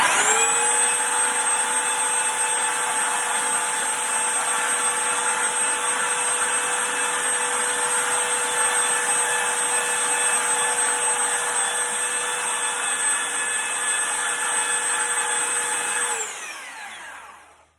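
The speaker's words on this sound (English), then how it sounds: "if you get a flat sander like mine" A flat power sander works on a wooden replica Civil War flagstaff, giving a loud, steady whine that holds evenly for about sixteen seconds before it winds down and stops.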